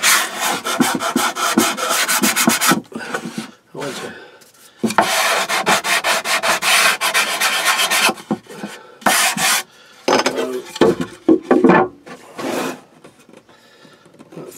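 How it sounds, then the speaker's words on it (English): Rhythmic scraping strokes of hand sanding on wood, close and loud, in quick bursts separated by short pauses. "I've just been sanding this down a bit, so to get it all nice and smooth"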